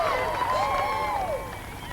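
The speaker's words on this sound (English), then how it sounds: "you can hear the crowd really supporting the American riders" Crowd noise at the Atlanta 1996 Olympic equestrian cross-country, spectators cheering for American riders, a steady roar with rising and falling whoops and whistles.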